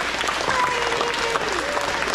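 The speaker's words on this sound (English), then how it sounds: "Everybody, let's give them a round of applause." Audience at an elementary school awards ceremony clapping steadily for honor roll students, a dense, even wash of applause from a room full of people.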